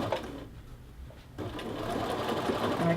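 A sewing machine edge stitches a men's shirt collar band. The clip opens with quick mechanical clatter, pauses briefly, then runs steadily and up close for the rest of the stretch.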